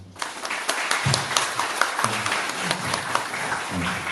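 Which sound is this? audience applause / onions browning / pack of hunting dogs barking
audience applause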